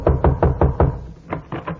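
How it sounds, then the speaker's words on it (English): Knuckles rap on a house door as a radio comedy sound effect: five quick, evenly spaced knocks, a short pause, then three more, crisp and close with no talking. "I went up to a house and knocked on the door."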